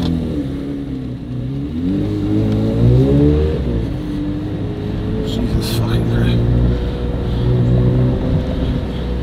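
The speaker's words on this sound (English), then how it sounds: "I never heard a car like this in my life." A car engine revs up and down in rising and falling sweeps, then settles into a throaty idle, heard from close by inside the vehicle.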